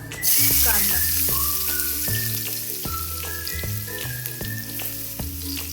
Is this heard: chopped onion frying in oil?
yes